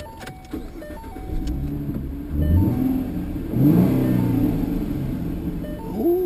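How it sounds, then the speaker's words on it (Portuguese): A Ford Mustang engine revs and accelerates with a low rumbling growl that swells twice, close by and fairly loud, with no talk over it. "Vamos entrar aqui no Mustangoso e acelerar."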